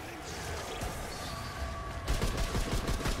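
Rapid, dense gunfire from the video game Remnant II, a steady mid-level barrage that grows heavier and more clustered toward the end, with game ambience around it.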